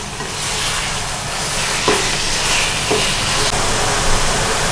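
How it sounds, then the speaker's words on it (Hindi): Minced meat qeema fries loudly in a hot pan with a dense, continuous sizzle and hiss, broken by a few soft scrapes of stirring, all close and unbroken. "अब हम ये कीमे को भूनते हैं"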